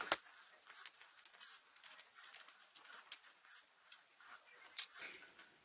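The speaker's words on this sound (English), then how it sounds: "We have our prompt cards here, so let's give them a shuffle." A deck of paper prompt cards for a reading-challenge board game being shuffled, with quiet close-up papery riffles and flicks in an irregular patter, the burst near the end slightly sharper.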